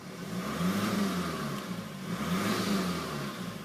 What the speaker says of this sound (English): when revved over 2000 there is sort of a whooshing noise to the engine